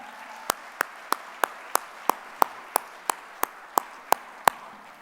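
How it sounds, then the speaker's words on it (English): Single sharp claps at a hall of fame ceremony, evenly spaced about every third of a second, loud and close with little other sound between them. "Can we get a round of applause for Nick?"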